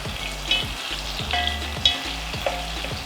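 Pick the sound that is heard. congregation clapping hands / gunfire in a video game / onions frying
onions frying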